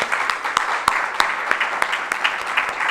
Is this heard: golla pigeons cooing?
no